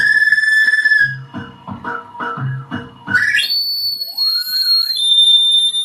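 A Monomaniacal Reincarnator feedback looper pedal with synth wah lets out a high whistling tone, then choppy pulsing stabs, then a shrill swelling squeal that bends upward and rings on, loud and harsh, with no voices.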